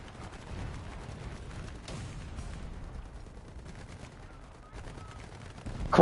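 Gunfire from the War Thunder video game forms a dense, continuous rumble of shots and distant booms at moderate level, ending in a louder burst.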